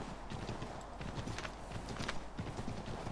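A horse gallops in the video game Assassin's Creed 3, its hooves a quick, steady clip-clop drumming close by over a faint background hiss.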